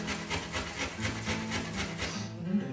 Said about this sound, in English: Now I've peeled the ginger, and we'll just grate some of it.